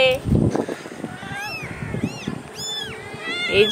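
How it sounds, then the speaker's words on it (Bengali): A mother cat with three kittens meows in a few high, drawn-out calls spread across a few seconds, close by, over a busy household background. "আমাদের মিঠাইয়ের 3টা হয়েছে বিড়াল ছানা।"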